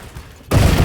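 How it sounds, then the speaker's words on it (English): A loud, sudden explosion in a horror video game bursts in after a brief quiet lead-in, then holds as a dense, roaring wall of blast noise to the end. "Cool guys don't look at explosions."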